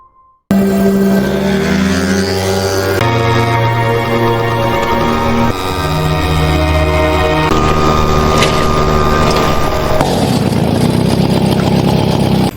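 A Honda CB motorcycle engine, loud and close, holding steady droning notes that step through several pitch changes as it revs, with no voices.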